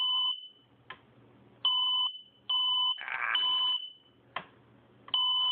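A smoke alarm beeps loudly in a repeating pattern of sharp, piercing tones, several bursts with brief gaps between them, as smoke from cooking pork steaks fills the room.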